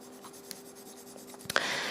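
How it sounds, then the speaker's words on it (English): A graphite pencil, held on its side, shades a broad area of drawing paper with a soft, continuous scratchy rasp. The strokes are faint and close, with a few slightly sharper scrapes near the end. "the side of the pencil is usually used for larger shading"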